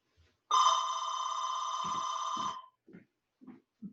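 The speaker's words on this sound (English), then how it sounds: "The phone is ringing." A single electronic phone ring lasting about two seconds, clear and fairly close, followed by short soft knocks and faint sounds.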